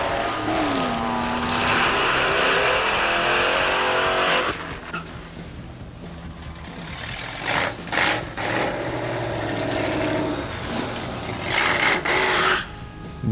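A 1973 Plymouth Duster drag car with the timing backed way down, its engine roaring loudly down the strip at a vintage drag racing test and tune day, then easing off into a lower rumble with brief surges.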